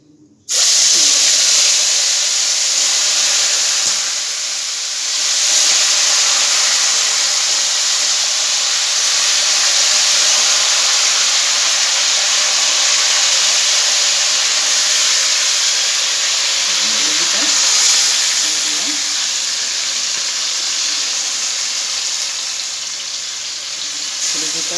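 Marinated meat frying in hot oil left from frying potatoes for a homemade biryani, a loud, steady sizzle and hiss that runs throughout with occasional stirring scrapes near the middle and end.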